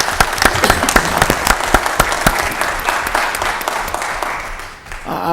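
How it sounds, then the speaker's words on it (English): Audience at a city council meeting in Mobile, Alabama breaking into sustained applause, dense clapping from a roomful of people holding steady for several seconds before tapering slightly. "let's give a big round of applause."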